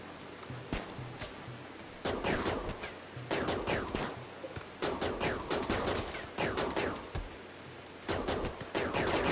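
Shotgun fire in the video game RimWorld: repeated sharp gunshot bursts crack out in quick clusters, loud and close, with brief gaps between volleys across the whole stretch.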